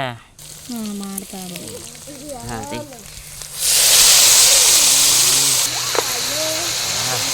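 Mutton being added to a pot with hand-pounded spices, ginger, cumin and fennel, bursting into a loud, steady sizzle partway through, preceded by talk and continuing under occasional voices.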